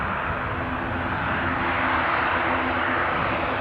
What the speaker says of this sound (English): you could probably hear the ATR 72 buzzing away